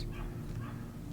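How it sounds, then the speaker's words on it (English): A dog barking indoors in the background, a couple of faint yaps over a steady low hum. "Sorry for the barking dog."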